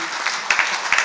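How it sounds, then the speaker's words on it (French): Congregation clapping during a church sermon, a brief patter of scattered hand claps with a few sharper accents over steady room noise. "And now begin to clap for the King of Kings."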